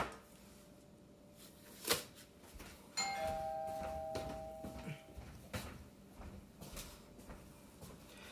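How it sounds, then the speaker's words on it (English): A household doorbell chimes in a quiet room, a ringing tone of two or three notes after a sharp knock-like hit, followed by faint clunks and shuffling. "so rudely interrupted by the doorbell"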